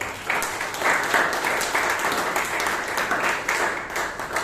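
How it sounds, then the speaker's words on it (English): Audience applause at a Toastmasters meeting in Bangalore, a steady close wash of many hands clapping that holds throughout without a break. "Please give a round of applause for that."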